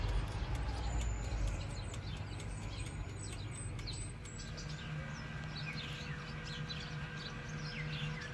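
Birds chirp and tweet outdoors in scattered, fairly faint calls over a steady low background hum while a cake bakes, with no talking.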